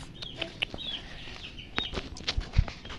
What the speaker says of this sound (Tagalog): Ito ang mga manok natin na alagaan namin.